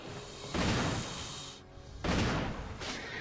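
Two heavy shotgun blasts in the video game Resident Evil HD, each a loud boom with a broad decaying tail, about a second and a half apart, with no talk over them.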